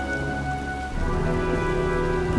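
Heavy rain pours in a storm in the video game Heavy Rain, a dense, steady wash that swells louder partway through, with a low rumble of thunder underneath.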